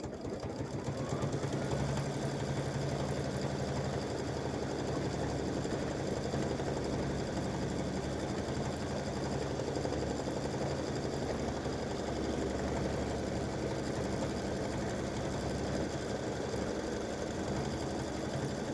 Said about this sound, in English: this is going to go around the shoe and stitch the satin stitching